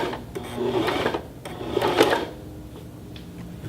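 Sewing machine stitching a fabric card case, two short bursts of running needle chatter close up, each about a second long, followed by quiet handling noise.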